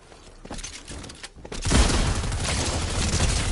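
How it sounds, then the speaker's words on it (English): Gunfire in Fortnite erupts after a quieter start, a dense continuous burst of loud shots and booms filling the second half. "Ready to shoot him. Shoot him."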